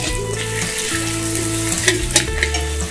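Sliced onion frying in oil over a high flame makes a continuous loud sizzle with scraping stirs throughout, under low background music.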